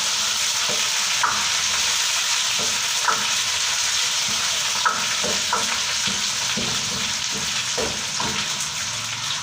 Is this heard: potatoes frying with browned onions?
yes